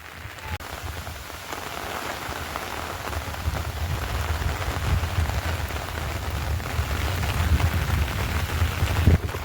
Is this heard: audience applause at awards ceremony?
no